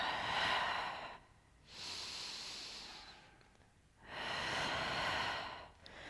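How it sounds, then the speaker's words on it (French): Slow, audible breaths during a Pilates workout, three long airy exhales alternating with quieter inhales, close and steady with no talk. "J'inspire, j'expire."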